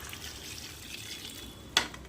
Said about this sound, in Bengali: এবার আমি এখানে দিয়ে দেব জল দিয়ে